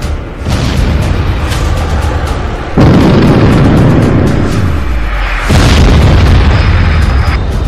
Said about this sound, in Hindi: पुतिन की तरफ से ट्रिपल अटैक में स्टॉर्म शैडो मिसाइल के गोदाम उड़ा दिए गए